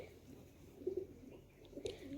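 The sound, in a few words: pigeons cooing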